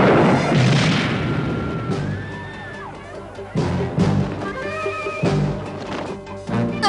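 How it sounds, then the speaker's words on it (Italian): A gun fired into the air to calm a panicked crowd in a police academy comedy scene, sounding as a few sharp booming bangs among ongoing talk and crowd noise. "sparerò un colpo in aria"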